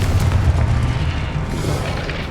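A deep, rumbling explosion from the Confringo spell in the video game Hogwarts Legacy, during Percival Rackham's Trial. The loud low boom rolls on for a couple of seconds without speech.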